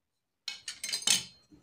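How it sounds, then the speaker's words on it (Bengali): Metal utensils, a knife and iron kitchen tools, clink and scrape together in a few quick, light handling sounds close by, with brief gaps between them. "আর এটা হচ্ছে ছুরি"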